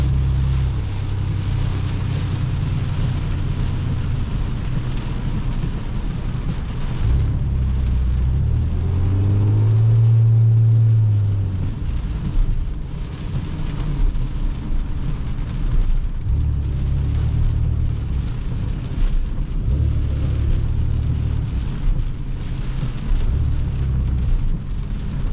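Heavy rain drums on an ECU-tuned Ram 2500 pickup truck driving on a highway in a downpour, a steady hiss over a low engine rumble that swells briefly midway.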